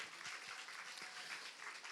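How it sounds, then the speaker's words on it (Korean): A church youth-retreat congregation applauds to welcome new members, steady dense clapping from many hands filling the room for the full two seconds with no voices over it. "우리 새가족분들 한번 우리 손들어 하면 그럴 수 있으니까 우리 박수로 한번 격려해 줍시다."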